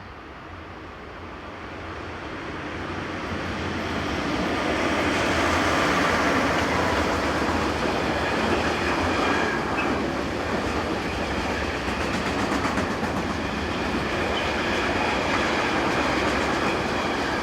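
A Swiss Re 6/6 (Class 620) electric locomotive hauls a southbound intermodal freight train beside the Zugersee, a steady loud rumble and wheel noise swelling as it passes close by and continuing without letup.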